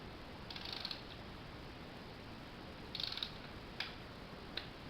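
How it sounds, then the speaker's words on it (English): A torque wrench tightens 6mm hardware to spec, giving a few faint ratcheting clicks and a soft snap near the end, spread over a quiet background. "now we're going to torque all the hardware up to its appropriate specs"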